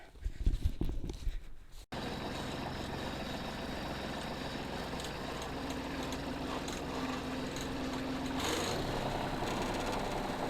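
A tractor engine idles steadily at moderate distance, a continuous low rumbling drone that runs unbroken after a brief burst of handling noise at the start.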